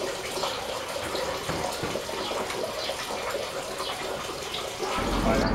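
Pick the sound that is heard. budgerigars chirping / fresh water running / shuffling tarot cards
fresh water running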